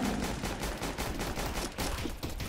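Rapid automatic gunfire rattles continuously while shooting a zombie in CS:GO zombies mode, dense loud bursts filling the whole stretch with no pause.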